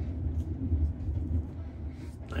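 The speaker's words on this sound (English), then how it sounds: "I hear some thunder." Distant thunder from an approaching storm rolls as a low, steady rumble, soft and far off, with no speech over it.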